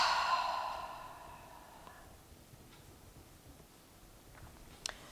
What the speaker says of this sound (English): So that Kapalabhati is more about the exhale, and the inhale just kind of snaps automatically.